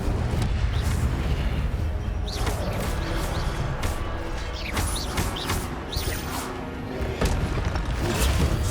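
Incendio fire spell from the Hogwarts Legacy video game: a steady, loud roaring whoosh of flames with crackling and rumbling bursts throughout, alone without talk.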